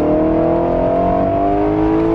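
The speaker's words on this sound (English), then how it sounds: "Put the top down to hear that 5-liter V8." A Lexus LC500 convertible with its top down revs its 5-liter V8, a loud, close, sustained engine note that rises slowly and holds steady throughout with no talking.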